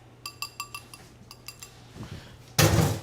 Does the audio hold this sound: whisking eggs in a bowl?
yes